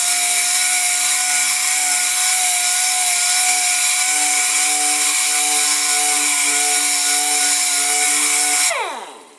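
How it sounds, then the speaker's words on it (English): Pneumatic dual action sander smoothing a foot model, a loud, steady high whine with a sustained hum running nearly nine seconds before spinning down at the end. "the way you finish it is with a dual action sander"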